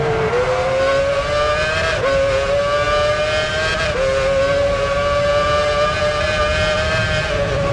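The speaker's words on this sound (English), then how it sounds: "Massa races past the checkered flag for the maximum 10 points" Formula One race cars in the video game Formula One Championship Edition at Melbourne, a loud sustained high-pitched engine whine that climbs and shifts with gear changes, running continuously from start to finish, with no talking.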